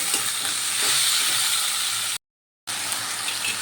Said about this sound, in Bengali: চিকেনের টুকরোগুলো দিয়ে একটু ভালো করে ভেজে নেব